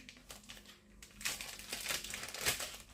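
Close, quiet crinkling and rustling of a plastic bag being handled and carefully folded, irregular crackles that grow busier toward the end.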